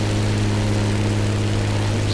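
A propeller airplane engine drones in a racing video game, a loud, steady, low hum that holds unbroken throughout without talk.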